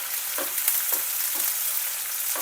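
Sliced onions frying in a pan on a gas stove while being stirred, a steady close sizzle with a few soft scraping strokes of the spoon at regular intervals, no talking.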